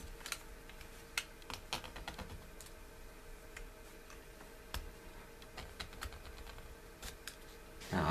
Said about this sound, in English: Now I've just got to cut this piece off.